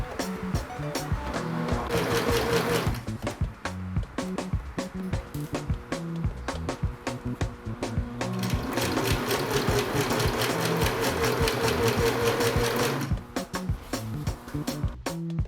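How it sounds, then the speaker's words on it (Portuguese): A sewing machine runs in fast continuous bursts, stitching close along the edge of fabric bias binding on a baking-dish holder, loud and near, with short pauses between runs. "agora eu vou passar uma costura bem na"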